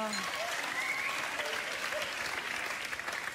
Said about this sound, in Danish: Hej, vi klapper.